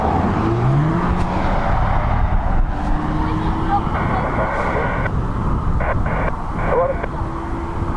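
An ATR turboprop airliner takes off at Dublin Airport on a breezy day, its engine drone and rising tones heard at a distance beneath someone talking throughout.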